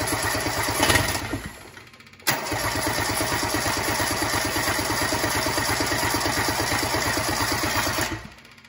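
A Kubota diesel engine on a go-kart cranks briefly, pauses, then fires and runs with a steady, loud, close chugging idle that holds for several seconds before cutting off near the end.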